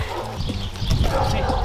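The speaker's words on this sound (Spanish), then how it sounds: "este es el caballo donde monta María Malibrán" A horse's hooves clop on the ground at a Mexican ranch, a brief run of dull thuds close by, mixed with outdoor noise and people talking.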